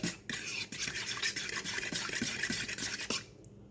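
Minced garlic being stirred into a Dijon mustard marinade for turkey wings, a steady close scraping and swishing of a utensil against a bowl, continuous with a few sharper knocks, moderately quiet and without speech.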